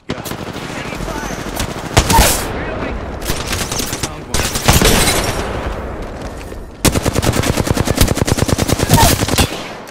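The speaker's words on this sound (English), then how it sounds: "Taking fire." Sustained automatic weapon fire from the Apex Legends battle royale shooter, loud rapid bursts filling most of the stretch, with the densest, steadiest rattle near the end and a voice briefly speaking over it.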